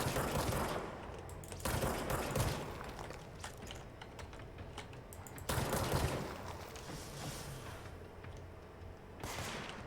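Enemy gunfire in the video game Control, rapid automatic bursts in dense clusters with short pauses between volleys, close and fairly loud over ten seconds.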